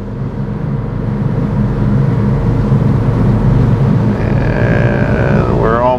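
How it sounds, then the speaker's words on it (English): A boat's engine is brought up to cruising speed of about 1300 RPM after leaving a no-wake zone, making a loud, steady, close droning rumble that rises slightly, with a rising whine near the end. "we're gonna bring ourselves up to our cruising speed. Just around 1300 RPMs,"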